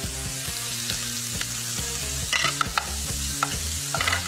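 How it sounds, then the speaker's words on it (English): Bacon fries crisply in a pan, with a soft steady sizzle and spitting fat, while a spatula scrapes and stirs in irregular strokes; close but fairly quiet, no voices. "Now that bacon's getting really nice and crispy"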